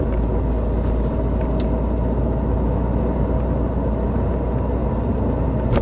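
Heard from inside the cabin, a Subaru GR WRX STI fitted with a Milltek catback exhaust gives off a steady, low, muffled drone under road rumble while it drives.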